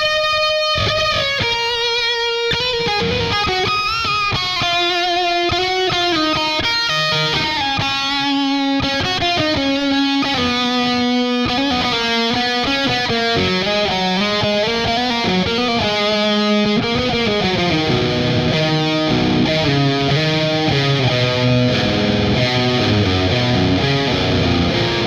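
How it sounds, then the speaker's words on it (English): Electric guitar played through a Bugera V55 Infinium amplifier with reverb and delay, a continuous run of sustained, slightly overdriven notes and chords that ring into echoing tails, loud and alone without any voice. "Now we're gonna add some reverb and delay just to see how it sounds when I'm playing with effects."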